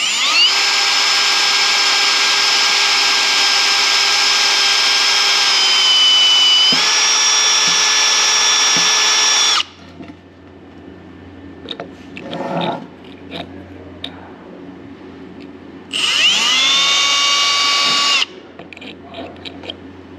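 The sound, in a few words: power drill drilling out a hole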